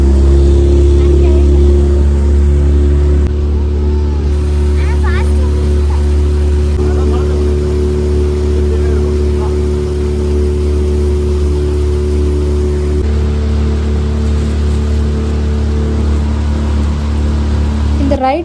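Steady engine drone of a tourist motorboat on an Ooty lake ride, a loud continuous low rumble with a faint hum over it and a voice talking beneath it throughout.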